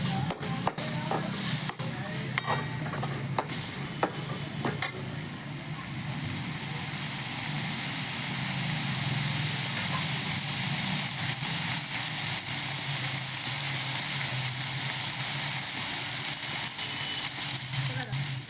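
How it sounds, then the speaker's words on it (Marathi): Onion sautéing with chillies in a pan, a steady close sizzle and hiss that rises and holds, with clinks and scrapes of stirring early on. "थोडासा कांदा टाकणार आहोत हे छान असं कांदा एकदम नरम होईपर्यंत आपण परतून घेऊया"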